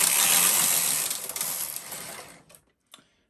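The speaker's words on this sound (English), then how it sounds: "I have a 2, so I knit 2 rows with the main carriage" A Brother KH-950 knitting machine carriage pushed across the needle bed while knitting rows of fine lace, giving a close, loud, continuous mechanical whirring rattle that gradually fades and stops, followed by a couple of brief clicks.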